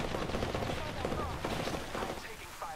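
Rapid gunfire rattles in a battle of the video game Apex Legends, dense overlapping shots in quick bursts running the whole time at moderate loudness, with a voice talking faintly under the fire.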